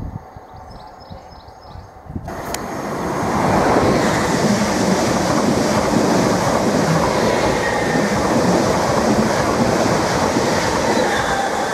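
A train passes at speed through Needham Market station, a quiet platform giving way to a sudden loud roar of wheels and rushing air that holds steady through the rest of the pass.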